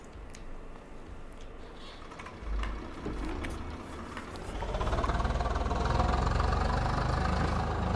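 A Case 855 tractor engine in Farming Simulator 22 runs steadily, a low rumbling drone that grows louder and fuller partway through, with a few clicking taps over it.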